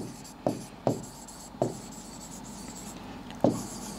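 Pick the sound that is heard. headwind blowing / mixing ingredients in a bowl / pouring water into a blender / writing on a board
writing on a board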